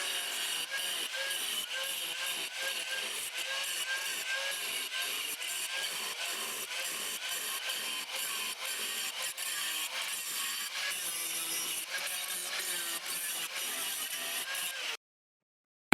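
Rusty car body sheet metal, three layered panels on a Citroën Traction Avant, being cut with a steady, continuous rasping saw sound that runs close and loud with no talk, stopping abruptly near the end.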